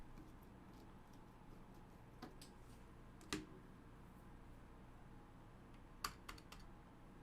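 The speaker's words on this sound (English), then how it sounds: "I hate that keyboard." Computer keyboard typing in a quiet room, scattered faint key clicks with a few sharper, louder taps spaced irregularly over several seconds.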